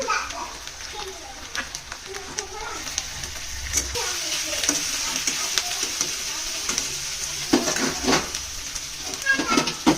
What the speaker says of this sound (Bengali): তো আমি এবার আদা রসুন বাটাটা দিয়ে দেবো।